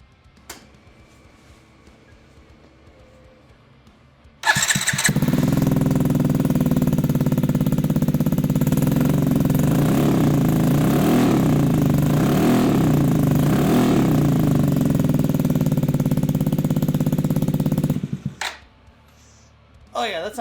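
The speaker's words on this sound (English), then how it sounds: "let's go ahead and start her up and see how she sounds." A Yamaha C3 scooter fitted with a new, less restrictive JDM aftermarket exhaust cranks and fires, then idles loudly and steadily with a buzzing small-engine note for about thirteen seconds before shutting off.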